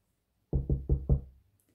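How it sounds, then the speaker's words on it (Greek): Four loud knocks on a wooden door, evenly spaced and close, with hollow thuds that fade quickly into silence. "Χτύπησε δυνατά την πόρτα ο Λύκος."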